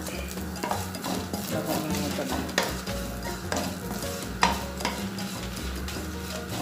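Curry leaves and bitter gourd fry in a pan with a little coconut oil, giving a steady close sizzle broken by the scrape and clack of stirring at irregular intervals.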